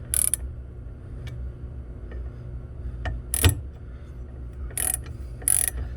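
A hand ratchet with a hex socket snugs a bolt on aluminum extrusion for a Jeep Wrangler dash bar mount, giving a few short bursts of metallic clicking close by, separated by quiet pauses.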